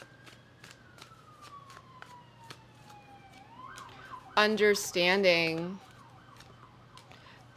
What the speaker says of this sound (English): Got some sirens outside.